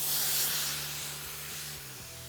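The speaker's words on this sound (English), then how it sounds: "I'm gonna go ahead and stab the tire" Air hissing steadily out of a tire stabbed with an A&M Goodman combat knife, a close, breathy rush that slowly weakens over a couple of seconds.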